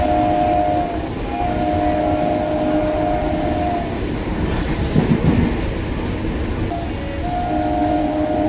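A Sealdah–Krishnanagar galloping local train, the 31835 up service, rumbles steadily past a station at close range, with long sustained horn-like tones sounding on and off over the loud continuous roar of the carriages.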